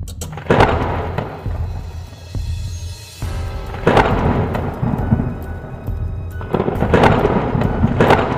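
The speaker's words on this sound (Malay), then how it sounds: "Baru-baru ini terjadi kilat dan ribut di Arab Saudi." Thunder rumbles during a lightning storm in Saudi Arabia, loud sharp cracks and heavy booming rolling over several seconds amid a constant roar of rain and wind, with no voices.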